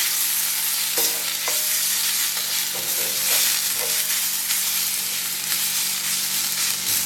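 Mustard sauce being stirred in a pan on the stove, a spoon scraping in a few distinct strokes over a steady low sizzle, close and alone with no talk.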